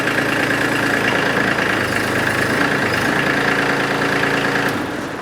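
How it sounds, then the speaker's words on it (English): A tractor engine idles steadily and loudly up close, a constant low rumble with mechanical vibration that holds evenly before easing off slightly at the end, with no talk. "you're going to be firing up your tractor"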